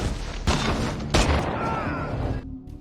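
Film shootout between a former special forces soldier and mafia gunmen, heard as loud heavy gunshot booms and bursts in quick succession that fill the whole stretch, then cut off abruptly into a quieter tail.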